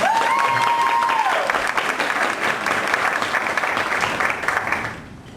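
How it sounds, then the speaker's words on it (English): A live audience breaks into a full round of applause to welcome a speaker at an event, dense steady clapping that holds for about five seconds before fading at the end. "let's give her a big round of applause to welcome her"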